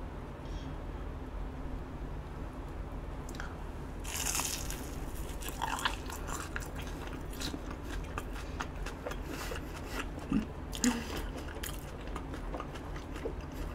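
Someone eats a hot dog dipped in cheddar cheese up close, with scattered crunchy bites and soft chewing, quiet between the sharp crunches and with no talking.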